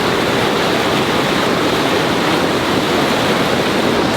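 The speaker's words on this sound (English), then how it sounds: "man, the water's running good over here." Creek water running strongly near an open field, a steady, loud broadband rush of flowing water that fills the whole stretch without pause.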